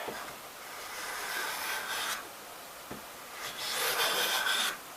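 A restored and tuned Stanley No. 4 Square 1105 hand plane takes light shavings from wood in close, raspy strokes, two or three long passes with brief pauses between, with no talking.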